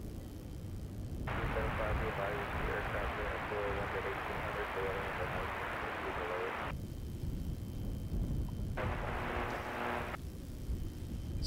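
A fixed-wing airplane flies overhead with a steady, broad engine roar that swells and holds, heard from the ground outdoors near tall grass.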